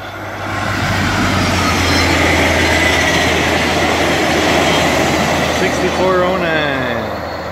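A Via Rail passenger train rushes past close by at Belleville, a loud sustained roar of wheels and rail clatter that builds, holds, then eases with a brief squeal as it goes by.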